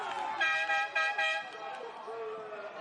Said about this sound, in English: And the air horns from the crowd.